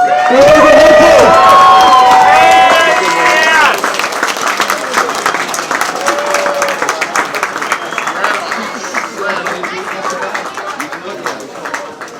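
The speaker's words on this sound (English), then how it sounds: "Give a big round of applause." A loud crowd at a snowboarding legends talk claps and cheers, with whoops and shouts up front that settle into steady applause.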